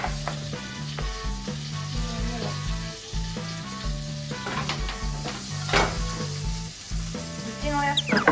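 Butter and garlic frying in a pan for a Japanese-style meunière, a steady close sizzle running throughout with music playing over it and a few brief bursts of louder crackle.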